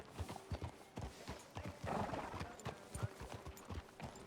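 Steady clip-clop of horse hooves at a walking pace in a video game, rhythmic and fairly close, with a brief swell of background noise midway.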